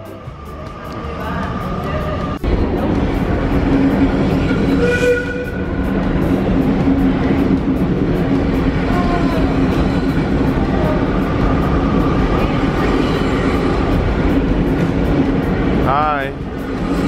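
A train sits in a station, its loud, steady rumble and hum filling the air, with a brief squeal near the end while people talk nearby.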